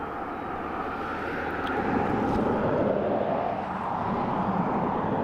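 An ATR turboprop arriving at Dublin Airport from Donegal produces a steady, loud broadband engine roar that swells slightly and then holds, with no talking.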